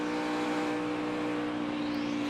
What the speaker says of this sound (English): You could hear Harvick get out of the throttle right there.